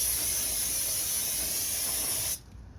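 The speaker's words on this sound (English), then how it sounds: "This is just a regular brake cleaner." Regular brake cleaner sprays from an aerosol can onto Toyota Venza front brake parts in a continuous loud hiss lasting about two seconds before cutting off abruptly.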